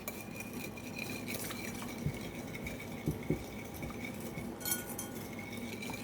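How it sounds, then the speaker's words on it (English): A whisk clinks and scrapes against a bowl, mixing brown sugar, milk and coconut oil, with several sharper taps among steady soft stirring. "I'm just gonna whisk out my brown sugar and the milk and the coconut oil."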